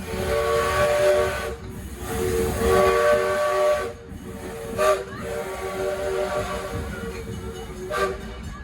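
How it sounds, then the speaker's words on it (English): A German-built steam locomotive on a Maine two-foot narrow gauge railroad hisses steadily, with short whistle-like tones and rhythmic chuffing bursts rising above a continuous rumble, fairly close and without talk. "The steam locomotive that they operate is from Germany"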